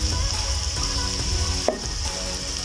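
Cabbage tipped into a hot frying pan with carrots already cooking, giving a steady close sizzle and frying hiss throughout, with a brief clatter partway as it is stirred in.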